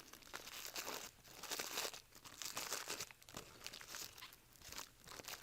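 Plastic packaging being unwrapped from the stationary unit of a mechanical seal, crinkling and crumpling in repeated bursts, close and faint, with no talk.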